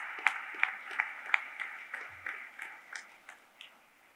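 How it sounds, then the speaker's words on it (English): Graduation audience applause, a modest round of clapping with distinct individual claps near at hand, fading and thinning over a few seconds. "Let's give them a round of applause."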